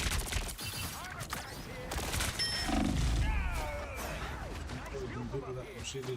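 Rapid gunfire bursts and impact effects from the video game Marvel Rivals crackle under excited shouting from a player, with busy game sounds filling the background.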